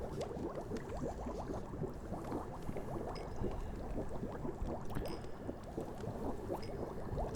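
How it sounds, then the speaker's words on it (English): Water boiling for tea in a quiet fantasy-tavern setting: dense, soft bubbling and gurgling, close and continuous, without pause or voice. "Let me just start boiling up some water"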